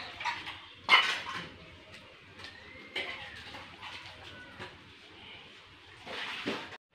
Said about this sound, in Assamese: এইফালে মায়ে কাঁহী বাচন ধুই আছে।